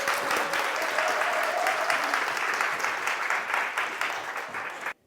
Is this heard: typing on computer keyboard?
no